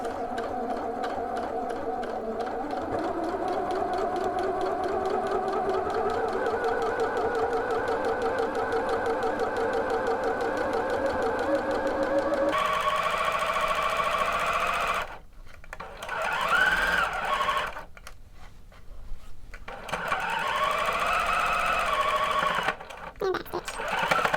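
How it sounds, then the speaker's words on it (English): A sewing machine runs steadily while stitching the underarm seam of a bodice, a close, continuous motor whir with needle chatter, then pauses and restarts in short bursts as a voice talks over it. "So I'm starting in that underarm seam and drop down my needle. Make sure to back stitch, and we're off."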